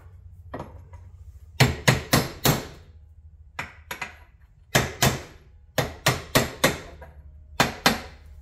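A hammer taps a wheel bearing into a Polaris Outlaw 500 ATV front wheel in quick uneven bursts of two to four blows with short pauses, crisp and close, no voices.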